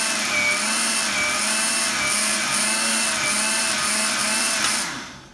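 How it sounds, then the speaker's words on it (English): Electric blender whirring steadily as it blends cottage cheese and flour into protein pancake batter, a loud, even motor drone that holds for several seconds and then spins down at the end. "you're just blending until all the cottage cheese is, you can't see it"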